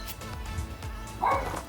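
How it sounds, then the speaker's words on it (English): A neighbor's dog barks nearby outside a house where the residents have moved out during a renovation, a short bout of yips and woofs standing alone with no talk. "Excuse the dog barking, that's our neighbor's dog"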